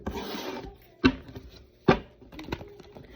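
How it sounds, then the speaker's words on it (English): Oracle cards shuffled by hand, a soft papery riffle at the start followed by two sharp taps as the deck is squared, with quieter rustling between, close and alone. "This is my oracle. I'm just shuffling it."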